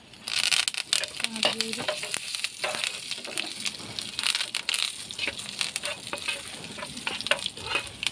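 Dried red chillies and curry leaves crackle and sizzle in hot oil for a jackfruit erissery, a dense, steady frying hiss with sharp pops and a few stirring scrapes, close and continuous with no talking.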